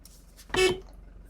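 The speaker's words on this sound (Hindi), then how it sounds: "देख हॉर्न मारती पीछे देख रही है" A short single car horn beep during a desert drive in Namibia, brief and moderately loud over quiet vehicle background.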